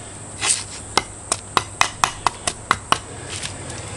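The fibrous husk of a coconut is trimmed with about nine sharp, regular chopping strikes, each a crisp thwack roughly a quarter second apart, close and fairly loud over a steady background hiss, with no voices.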